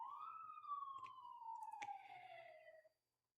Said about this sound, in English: there's sirens going on outside